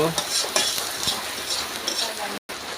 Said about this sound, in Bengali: টমেটো ঢেলে দিয়েছি, ফ্রাই করে নেব।